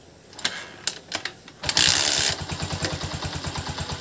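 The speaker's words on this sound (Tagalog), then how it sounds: "So, paandarin ko yung motor natin." A Honda TMX 125 Alpha motorcycle is kicked several times with sharp clicks, then the engine fires with a short burst and settles into a steady, rapid idle putter close by.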